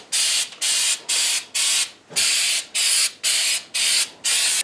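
Flex Seal rubberized coating sprays from an aerosol can in about nine bursts, each a loud close hiss of roughly a third of a second separated by brief gaps, with no other sounds.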